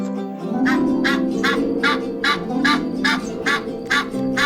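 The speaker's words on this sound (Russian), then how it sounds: "Этот гусь, или по-казахски кас, высоко задрал вверх голову к небу и гордо возглавляет всю важную" A group of geese honks repeatedly in loud, regular bursts, close by, with no talking.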